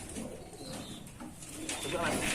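A breeding pigeon coos softly, with low, rolling calls heard faintly in a loft over background noise.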